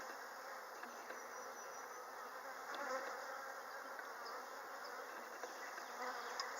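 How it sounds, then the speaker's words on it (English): Dense, steady swarm of honeybees buzzing close around a beekeeper's head at an open hive during pollen season, a continuous high drone with individual bees flicking past. "Yet there's a cadre of bees just around my head, orienting"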